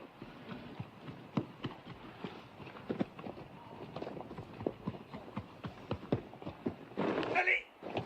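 Horses' hooves clip-clop in a steady, uneven run of sharp thuds in a western film scene. A brief burst of voices comes near the end.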